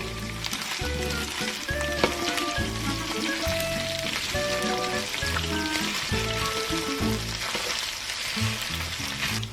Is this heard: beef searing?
yes